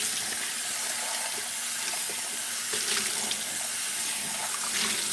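Tap water runs steadily into a sink to rinse a coffee maker part during breakfast preparation. The flow is continuous, close and alone throughout, with no talk.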